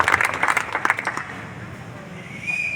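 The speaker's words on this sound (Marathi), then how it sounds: "महिलांसाठी एकदा टाळ्या वाजवून त्यांचं आपण स्वागत करूया" Applause from an audience at a Mahatma Basaveshwar Jayanti celebration in Ranjangaon, a burst of clapping for the women attending that is loudest in the first second and then fades under a low murmur of the crowd.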